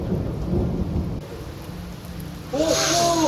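Thunderstorm during a June storm chase, with a deep rumbling thunder roll under steady rain, followed by a loud crack of thunder near the end, heard over the rainfall.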